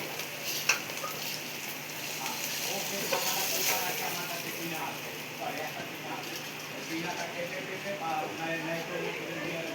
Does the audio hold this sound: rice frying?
yes